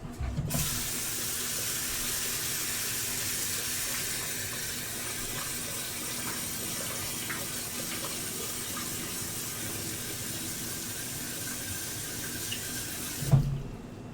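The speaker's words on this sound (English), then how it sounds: "we're going to give these all a rinse." Potatoes are rinsed under a running kitchen tap, a steady close rush of water into the sink with faint splashes, ending in a brief knock as the flow stops.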